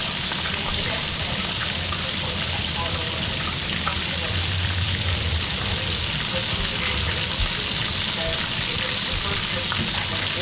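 Chicken fries in deep grease at home, a dense continuous crackling sizzle throughout, close and steady with occasional low bumps.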